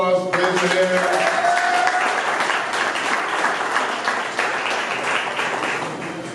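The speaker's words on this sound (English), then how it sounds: "Give them a round of applause, raise your hand." A crowd at a downtown Illinois opening night breaks into a round of applause that starts as a voice trails off, then holds as dense, steady clapping with a few cheers, loud and sustained.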